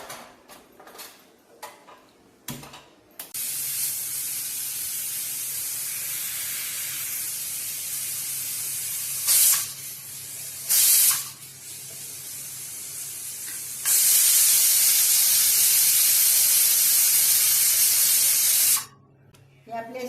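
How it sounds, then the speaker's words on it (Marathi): A pressure cooker with washed toor dal inside hisses with loud, steady escaping steam. Sharp bursts break in midway, and a long, brighter jet of steam follows before the sound cuts off near the end. "आता ही डाळ आपण कुकरला लावू शिजत घालू धुवून"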